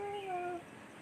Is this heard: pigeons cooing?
no